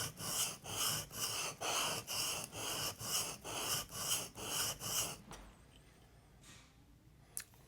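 A blade scrapes back and forth across a coarse sharpening stone in about nine even, rhythmic strokes, close and crisp, before stopping and leaving near silence with one small click.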